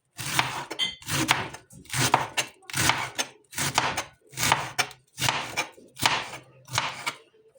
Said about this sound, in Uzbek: karomni ham maydalab to'g'rab olamiz